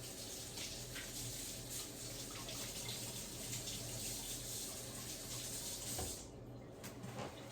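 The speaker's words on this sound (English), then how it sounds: "Let me rinse them off real quick." Tap water runs steadily over celery stalks in a kitchen sink, a close, continuous hiss and splatter that holds for several seconds before briefly thinning near the end.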